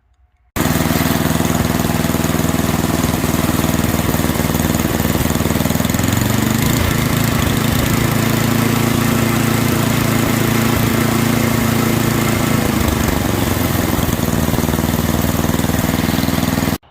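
Small engine of a 1992 snowblower running steadily after a carburetor rebuild with new needle and seat, a loud continuous close-up drone that shifts slightly in pitch midway and keeps going without talk.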